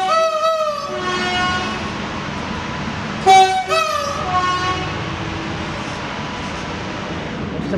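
A locomotive horn sounds at a railway technology day on a PKP Cargo site, giving loud multi-tone blasts up close: one long honk, then a short sharp burst, with a brief call over steady background noise.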